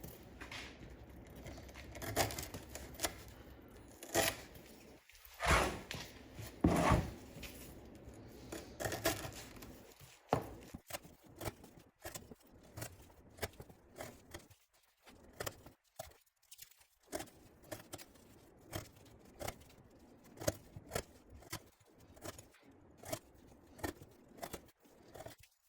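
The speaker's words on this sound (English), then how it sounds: "now we're gonna cut up some 3/8 twisted sisal rope" A Kizer October EDC knife cuts through 3/8 twisted sisal rope in a series of sharp, close, scratchy slicing strokes with short pauses between them, no talking.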